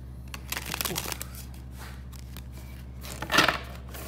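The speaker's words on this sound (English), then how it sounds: "Let's try another shuffling." Tarot cards of the Change Tarot deck rustle and riffle in quick, papery bursts, with a longer shuffle near the start and a louder one toward the end over a low steady hum.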